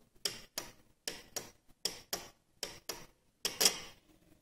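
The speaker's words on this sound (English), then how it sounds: "As I connect, I hear a click." A car relay clicks sharply as it is powered and released, about a dozen close, crisp, faint clicks in an uneven rhythm with silence between them.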